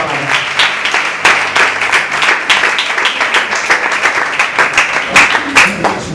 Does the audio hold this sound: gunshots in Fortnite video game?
no